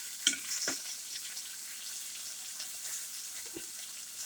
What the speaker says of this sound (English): you're basically frying them all up before we go on to the next part